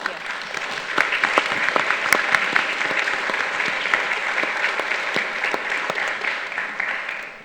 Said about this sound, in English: Can we give them another round of applause for participating?